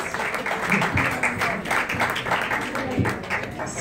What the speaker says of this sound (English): Guys, big round of applause for all our ex-photographers.